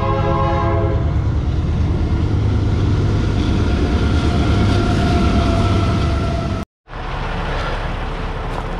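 A train rumbles loudly past on a track close behind a roadside stop on a highway, a steady, heavy roar of rail cars with clattering wheels that continues without a break until a brief cut.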